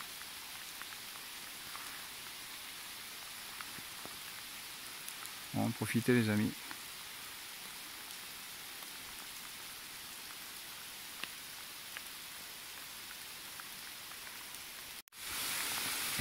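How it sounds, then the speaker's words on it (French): Heavy rain pours steadily through woodland, a dense, even hiss that holds for the whole stretch while someone speaks briefly near the start. "Il pleut vraiment à max quoi."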